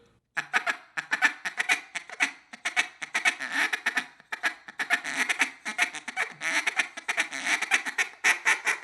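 A duck call rattles out a rapid, continuous feed chuckle, broken by bursts of quacks; close, steady rhythm, no talking.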